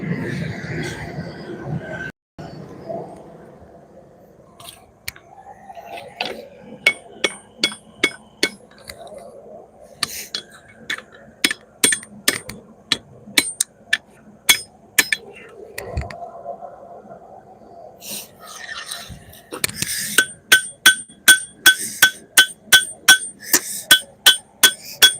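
A sword blade is hammered on a saddled anvil during forging, with many sharp ringing metallic blows landing in rapid rhythmic bursts and pauses, close and loud, with brief talk near the start.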